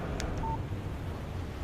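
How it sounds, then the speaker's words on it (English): A short electronic phone alert for an incoming text message in Alan Wake Remastered: a brief high beep tone, then a steady low hum of background ambience. "Text message from Barry"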